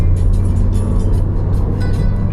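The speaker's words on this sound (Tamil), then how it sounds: "ஓ, யுவராஜ் கஷ்டப்பட்டு வண்டி ஓட்டிகிட்டு இருக்கோம்." Steady car engine and road noise from inside a moving vehicle on a long drive, a continuous low rumble with tire hiss held at an even, loud level throughout, with no talking.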